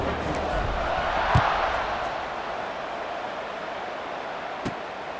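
Stadium crowd in EA Sports College Football 26 roars in a steady, broad wash before a kickoff, with a couple of brief thumps rising out of the sustained cheering noise.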